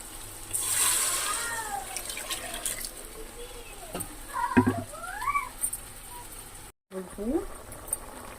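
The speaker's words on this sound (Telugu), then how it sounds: "ఇది బాగా కలుపుకొని ఇందులో పోసేసుకోవాలి." A chili powder mixture is poured into a fish curry, giving a soft liquid splash and trickle near the start, followed by quieter patters and stirring sounds. Faint voices come through underneath.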